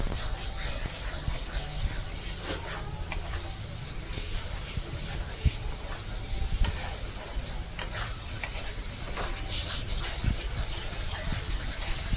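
Water hits a hot pan on a gas stove while a Bengali bhetki fish bone dish cooks, producing a steady sizzling hiss with stirring scrapes, close and continuous, and a voice talking faintly at times.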